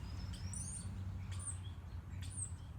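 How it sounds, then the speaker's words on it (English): Several birds chirp and tweet in short bright bursts outdoors in sunshine, repeated calls spaced across the moment over a steady low background hum, fairly faint and distant. "I'm breathing in the sunshine and the chirping birds."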